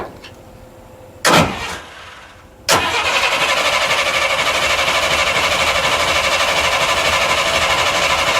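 A 1939 Burro Crane engine cranks over on the starter during a compression test, with two brief bursts, then a loud, steady, rhythmic cranking drone that runs on close by with no talk.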